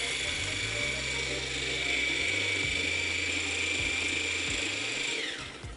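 A food processor runs steadily, blending aioli seasoned with salt and pepper. The motor whirs on continuously at a constant level, then winds down and stops at the very end.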